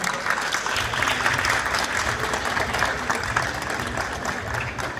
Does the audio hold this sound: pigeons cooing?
no